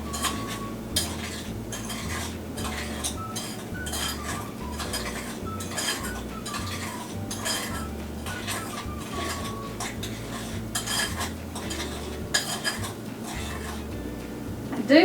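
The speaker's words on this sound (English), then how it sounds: "I do want to kind of stir that around in the apples a little bit and coat them all with it." Spoon stirring sliced apples with sugar and cinnamon in a bowl, a steady run of close clinks and scrapes against the dish with soft wet shuffling, continuing without a break.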